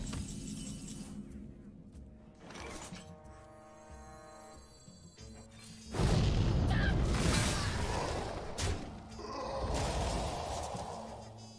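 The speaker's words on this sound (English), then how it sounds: "Arcane Explosion, that's fun." An Arcane Explosion spell effect in the Hearthstone card game, a loud magical burst with shattering crackle and booming rumble following quieter chimes and clicks, lingering for several seconds.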